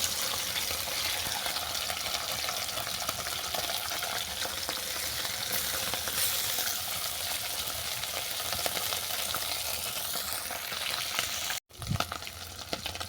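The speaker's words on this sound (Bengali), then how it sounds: "আমি মাছগুলোকে উল্টো পাল্টে বাদামি করে ভেজে নেব" Small mourola fish fry in hot oil with a loud, continuous close-up sizzle that holds steady throughout, cut by a brief dropout near the end.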